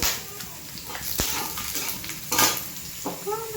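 Onions fry in a pan on a home stove, with a steady sizzle broken by sharp clinks and scrapes of a spoon against the pan, a loud knock near the start and a few clattering strokes later.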